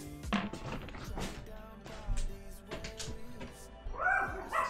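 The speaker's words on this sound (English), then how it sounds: "There's a dog in my living room." A small dog in a living room gives a few soft barks and whimpers amid rustling, with a short yip near the end, heard close and fairly quiet.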